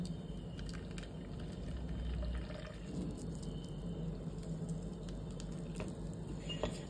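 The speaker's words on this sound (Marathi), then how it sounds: "हे आपलं नारळाचं दूध काढून झालंय, आता आपण ते गाळून घेऊया।" Freshly extracted coconut milk is strained, giving a steady, close, liquid trickle and soft patter that runs continuously with small squishy textures throughout.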